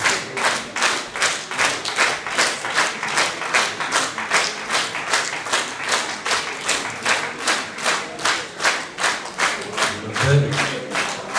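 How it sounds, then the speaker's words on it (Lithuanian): Sustained rhythmic applause fills a hall at the 40th-anniversary celebration of Elektrėnai's Rungai as gifts are handed out. The crowd claps in steady unison beats, loud and even throughout. "Tai dovanas gauna, tai plojimai tęsiasi"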